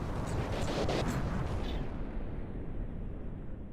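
Dense, roaring bursts of explosions in a From the Depths video game battle blend into a continuous rumbling barrage, loud and close, slowly easing off toward the end.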